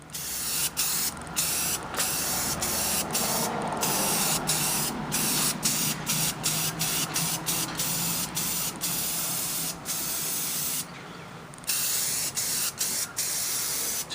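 Aerosol spray paint hissing steadily onto an antique Hallicrafters R-46 500 ohm speaker, a light initial coat applied in long continuous bursts close by, broken by brief pauses between passes.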